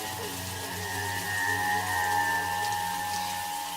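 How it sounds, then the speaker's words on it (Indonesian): A shower running on its own in a villa bathroom in north Bandung, a steady close hiss of spraying water drumming on the floor with no voices. "Iya, benar saja, shower itu menyala sendiri."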